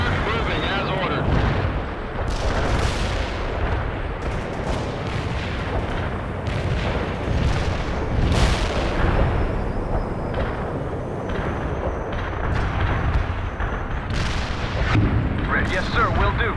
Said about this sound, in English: That artillery is closing in.